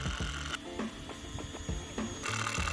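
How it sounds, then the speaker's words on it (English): A cordless drill drives 3-inch screws into logs for a backyard bike obstacle, heard as repeated bursts of close whirring and grinding with brief pauses between them. "Just gonna pre-drill and drive some 3-inch screws in there."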